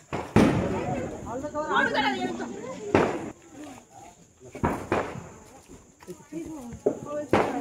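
Sharp firecracker bangs pop at irregular intervals, several in a row, during Diwali celebrations, amid people chatting and calling out nearby.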